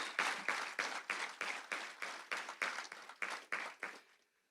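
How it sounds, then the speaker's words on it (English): Audience at a university faculty and staff fall assembly claps in a quick, evenly spaced burst of about a dozen distinct claps, moderately loud and close, then trails off into quiet. "Let's give that a round of applause, please."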